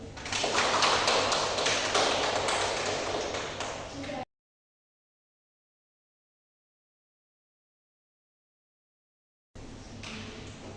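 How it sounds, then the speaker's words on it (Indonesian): A class claps in a classroom, a dense burst of many hands clapping that gradually fades after about four seconds and then cuts to silence, followed by a short return of clapping. "Kasih aplaus untuk Suci."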